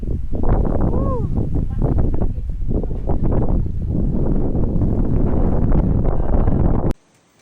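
Steady, loud wind buffeting the microphone on a hiking trail in Bataan National Park, a continuous rumbling roar lasting several seconds before cutting off abruptly.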